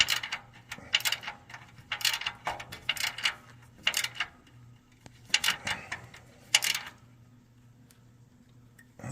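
A regular ratchet tightening exhaust manifold nuts, giving bursts of sharp rapid clicking strokes close up, with short pauses between pulls and no talking.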